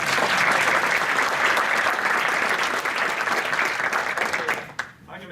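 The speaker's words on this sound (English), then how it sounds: "Another round of applause for these guys" A group bursts into a full round of applause, dense and sustained clapping at close range that holds strong for several seconds before breaking off abruptly near the end.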